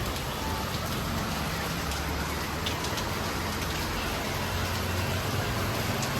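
Heavy rain pours down in a steady, loud, unbroken hiss of drops striking surfaces, with no talking.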